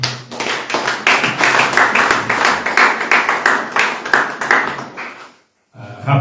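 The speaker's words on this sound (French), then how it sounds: "On acclame le Seigneur." A church congregation claps to acclaim the Lord in loud, steady rhythmic unison that fills the room, then cuts off into a brief silence before the clapping resumes.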